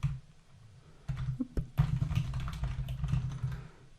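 Quick bursts of typing on a computer keyboard at a desk during a coding session, close keystroke clicks in uneven runs with short pauses, no talk.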